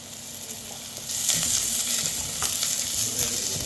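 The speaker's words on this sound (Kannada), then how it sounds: "ಈರುಳ್ಳಿ ಫ್ರೈ ಮಾಡ್ತಿದ್ದೀನಿ" Onions and capsicum fry in a hot pan with a loud, steady sizzle that swells partway through, broken by a few sharp clinks of stirring.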